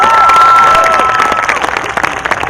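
A crowd applauds and cheers for the graduating class of 2024 at a high school commencement ceremony, a dense, loud wash of clapping that starts full and thins toward the end.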